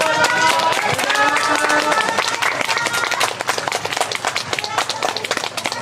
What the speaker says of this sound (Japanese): リンクのみんなに今一度拍手をお願いします。